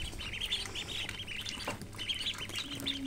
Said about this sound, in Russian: Вот наши утята, индийский бегунок,